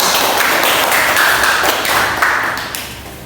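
A classroom of pupils claps for a classmate named Tika. Dense, close, energetic hand clapping continues throughout and tapers slightly at the end.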